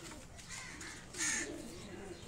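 Kabli breeder pigeons coo inside a coop, low rolling murmurs close by with a brief brighter flutter partway through over steady room noise.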